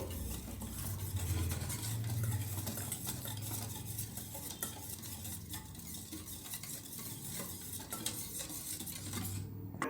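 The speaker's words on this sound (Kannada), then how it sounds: "ಇದನ್ನು ಚೆನ್ನಾಗಿ ಮಿಕ್ಸ್ ಮಾಡ್ಕೊಳ್ಳೋಣ ಏಕೆಂದರೆ ಚಿರೋಟಿ ರವೆ ಸ್ವಲ್ಪ ಹಾಲನ್ನು ಹೀರ್ಕೊಳ್ಳುತ್ತೆ" Chiroti semolina is stirred with milk in a pan, a continuous scraping and swishing of a spoon against the pan with faint clinks throughout.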